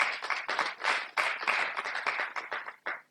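Applause from an audience at a talk, a short stretch of brisk clapping in uneven bursts, fairly close and loud, with no voices over it.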